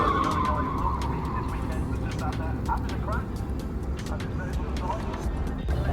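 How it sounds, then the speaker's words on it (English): A Land Rover Defender drifts at the Castle Combe circuit during practice, its engine roaring from middle distance with chirps of tyre squeal, while a commentator talks throughout. "that mad device, the Defender drifting"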